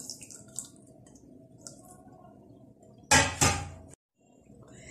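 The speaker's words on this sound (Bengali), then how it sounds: "তার জন্য দিচ্ছি 2 টেবিল চামচ চিনি, আর এটার মধ্যে আমি দিচ্ছি সামান্য একটু পানি।" A little water is poured into two tablespoons of sugar in a pan to start caramel, giving one brief, loud splashing burst amid quiet kitchen background.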